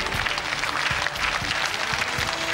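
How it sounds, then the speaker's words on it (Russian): Steady audience applause fills a televised Russian children's talent contest as a contestant's mother is introduced, a continuous, even roar of many hands clapping at close range. "Ей аплодисменты тоже полагаются."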